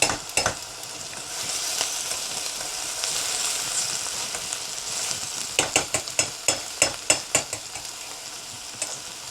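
Onions and ginger garlic paste frying in a pan, a close continuous sizzle with a run of sharp clinks and scrapes from stirring toward the end.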